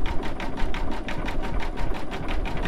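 A close, loud embroidery machine stitches out a free sun design in a steady rapid rhythm, its motor humming under a regular needle beat with no speech.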